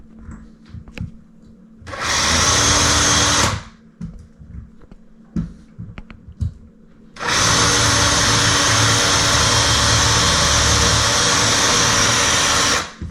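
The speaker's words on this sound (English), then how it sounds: "Drilling holes." A power drill bores holes during a DIY house renovation, with a short loud whir of about two seconds, a pause with handling knocks, then a longer sustained run of about six seconds, all close to the microphone.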